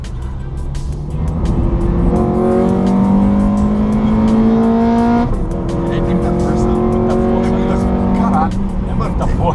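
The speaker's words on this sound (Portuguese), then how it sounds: "O carro empurra muito de alta e o barulho característico do Honda" A manual Honda Civic LXS 1.8 with a Stage 4 tune pulls hard through the gears, its engine climbing in long rising sweeps with a gear change midway, loud and close from inside the car, with voices talking over it.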